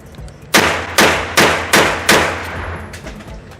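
An AR9 carbine fires five loud, sharp shots in a steady rhythm about half a second apart, each with a ringing decay, close and alone with no talking.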